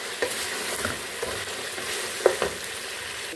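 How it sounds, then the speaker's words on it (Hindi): Beef with crushed garlic and ginger fries in a karahi, giving a steady soft sizzle broken by occasional spoon scrapes and clinks as it is stirred, with no talk. "3 से 4 मिनट हम भून लेंगे अच्छे से।"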